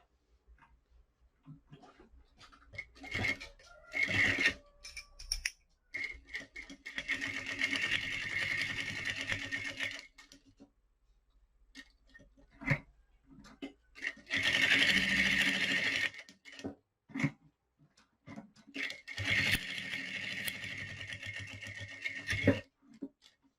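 Industrial sewing machine stitching a finishing seam on a phone and document holder, several close bursts of rapid mechanical whirring of a few seconds each, separated by pauses with soft handling clicks and rustles.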